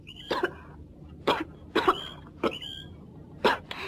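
Five sharp coughs come in quick bursts, separated by short pauses and light breathing, close and fairly loud.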